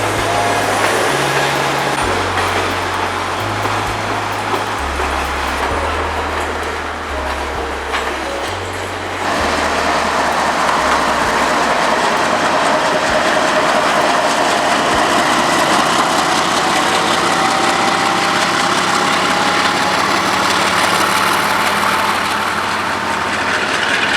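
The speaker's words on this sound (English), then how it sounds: "the first manifest that had pulled up to the south end of the yard starts reversing back into Inman" A Norfolk Southern manifest freight train reverses into Inman yard, with a loud, continuous rumble of locomotive engines and rolling cars that carries on steadily, alone and without talk.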